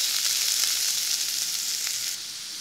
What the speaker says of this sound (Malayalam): ഒരു അര മിനിറ്റ് നമുക്ക് ഈ എണ്ണയിലിട്ട് നന്നായിട്ട് വഴറ്റാം.